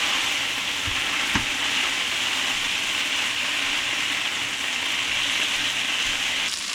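Shrimp pad thai noodles with bok choy and shiitake mushrooms frying in a hot pan, a loud, dense, continuous sizzle held close and steady throughout, with a couple of brief knocks and no talking.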